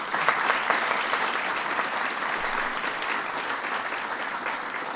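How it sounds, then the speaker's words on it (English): Audience at a White House Ramadan celebration breaks into sustained applause, dense and even for the whole stretch, fairly close and loud, with no speech over it. "Please give them a big round of applause."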